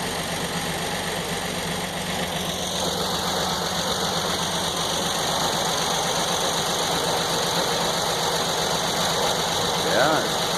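Sawmill with a 49-inch blade spinning, a steady loud mechanical drone with engine-like rumble that holds evenly throughout, close by with no clear talk.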